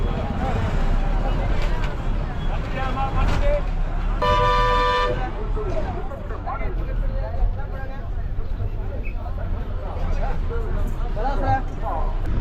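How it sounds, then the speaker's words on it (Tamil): At the busy Panruti bus stand, a loud horn honks in a long toot amid constant engine rumble, passing vehicles and crowd chatter, with someone talking throughout. "இப்போ நீங்கள் பார்க்கறது தான் இந்த பன்ருட்டி பஸ் ஸ்டாண்ட்"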